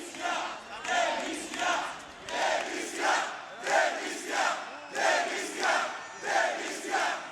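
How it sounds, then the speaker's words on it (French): A large, angry protest crowd fills the streets of Bucharest, Romania, chanting in unison against a corrupt government. The chant comes in steady rhythmic bursts, about one per second, rising and falling with no solo voices standing out. "En quelques heures, des dizaines de milliers de personnes envahissent les rues de la capitale."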